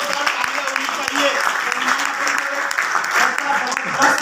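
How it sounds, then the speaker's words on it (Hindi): Enthusiastic audience applause at a product demo event in Ahmedabad, Gujarat, a steady dense clapping that fills the whole stretch with a few sharper claps standing out; faint voices may sit under it. "उनके लिए जोरदार तालियां चाहिए"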